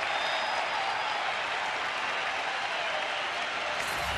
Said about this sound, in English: Crowd's in a roar right now.